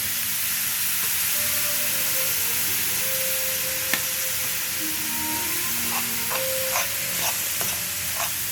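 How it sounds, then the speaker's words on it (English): Steady sizzling and crackling of ground meat frying in a pot without oil, with occasional scrapes and stirring clinks, no voices. "And when I'm frying it down here"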